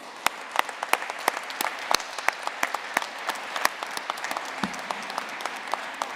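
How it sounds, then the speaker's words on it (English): Applause at an undergraduate commencement ceremony honoring graduates' families, a sparse scattering of distinct claps that carries on throughout, moderately loud with no voices on top. "So please join me in a round of applause for these very important people."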